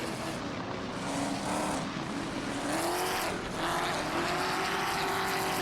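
Race cars in an AI-driven racing game, a Chevrolet SS67 and a Dodge Dart Hemi Superstock battling for position, roar continuously with rising and falling engine pitch as they pass, loud and steady throughout.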